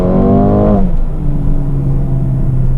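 Under hard acceleration, the 302-horsepower Mercedes-AMG A35 hatchback revs loudly, then the transmission kicks down with a sharp drop in engine pitch, and a strong steady drone continues, heard close with no talking.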